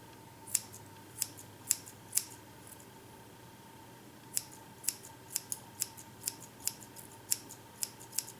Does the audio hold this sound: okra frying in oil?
no